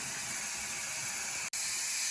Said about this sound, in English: Now, as this builds, steam will come out a little bit